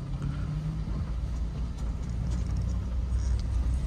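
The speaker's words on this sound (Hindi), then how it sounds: "ये देखो भाई ट्रक वालों को देखो एकदम से रोड में घुसा देते भाई ये" Trucks roll past on a road with a steady low rumble of heavy engines and road noise, continuous and fairly close, with no voices.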